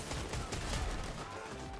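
Gunfire in the video game Fortnite, a dense, sustained burst of rapid shots running loud and continuous through the whole stretch, with no speech over it.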